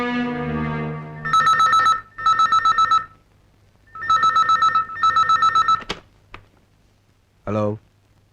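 A telephone rings out in repeated double bursts after a call is dialed in a Tamil movie scene, loud and close, with clicks as the line is picked up and a brief voice at the end.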